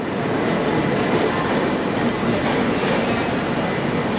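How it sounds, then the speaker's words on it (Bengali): The Duronto Express pulls into Dhanbad station in India with a steady, loud, dense rumble of rolling rail cars and wheel noise that carries on unbroken throughout. "দুরন্ত এক্সপ্রেস চলে এলো।"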